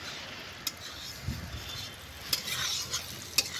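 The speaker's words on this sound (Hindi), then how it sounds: "देखिए आशा जी भूंज रही हैं इसको।" Hath ka jhili sizzles steadily in hot oil in a home kitchen while being fried, a soft continuous crackle with a few sharp stirring clinks and scrapes over it.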